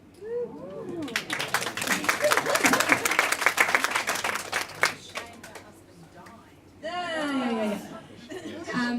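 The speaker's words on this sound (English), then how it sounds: "I think we should give a special round of applause to Fiona" A library panel audience gives a round of applause, a burst of dense clapping that swells for about four seconds and then fades, with chatter and a chuckle around it and a voice talking at the start and end.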